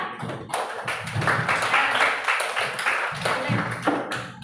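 Students in a classroom clap for a group coming to the front, a scattered burst of hand claps with voices talking over and around it.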